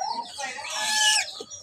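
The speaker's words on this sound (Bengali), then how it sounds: "ওই পাশে মুরগি আসছে, মুরগিগুলো আবার দেখছে।" A chicken nearby gives a loud, drawn-out squawking call that rises and holds before cutting off, with faint clucks around it.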